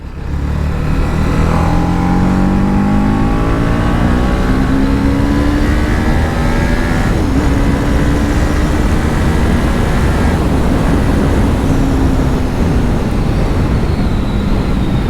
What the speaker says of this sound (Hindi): ये इंजन इतने अच्छे से रेव करता है and it goes till the red line without any issue.